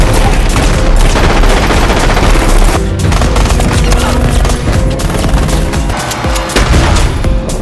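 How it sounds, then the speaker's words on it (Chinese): A gunfight in a comedy action film, with loud, dense bursts of automatic gunfire and booming shots rattling continuously for several seconds. "此时外面的拽毛拽妹正在和其他杀手激战"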